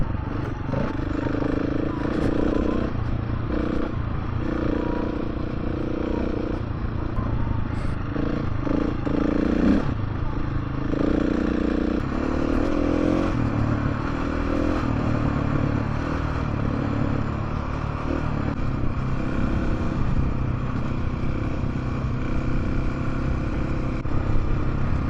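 A 2024 KTM 690 Enduro R motorcycle rides along dirt trails, its engine droning steadily under rattling and scraping from the rough ground for the whole stretch.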